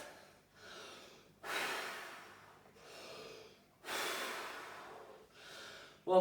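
Heavy, gasping breaths after strenuous tuba playing, close to the microphone, coming in four or five loud bursts of inhales and exhales with short quiet gaps between them and no talking.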